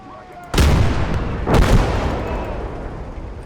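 Artillery in a World War II video game battle booms twice, two heavy, close blasts about a second apart, each followed by a rumbling decay over a low background din.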